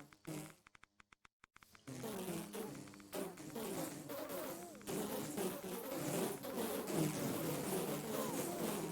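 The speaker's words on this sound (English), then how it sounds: "I'm just going to spam these, get loads of radioactive bees out here" Radioactive bees swarming in a modded Minecraft world, a dense, continuous insect buzz that follows a few short clicks and holds steady and fairly loud to the end.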